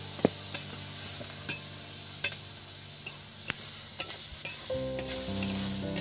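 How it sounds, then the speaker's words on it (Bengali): Maggi noodle masala fries in a pan on a steady sizzle while a utensil stirs it with sharp scraping taps spaced about half a second apart, close and unaccompanied by talk. "এটাকে ভালো করে একদম নেড়ে চেড়ে নিয়েছি।"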